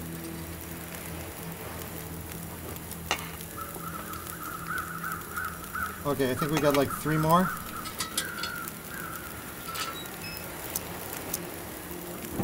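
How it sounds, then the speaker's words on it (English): Crows cawing in The Long Dark video game, a burst of several harsh caws clustered in the middle over a quiet ambient game backdrop, with a person talking briefly. "Oh no, the birds came."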